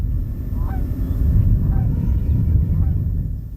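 Geese honk at a marsh, several calls spaced across the clip over a steady low rumble of wind or distant noise, moderately clear rather than close.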